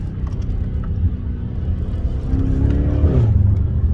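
A BMW 650i's twin-turbo 4.4-litre V8 accelerates with a deep, steady rumble that climbs in pitch and swells louder over the final seconds, heard close and without talk.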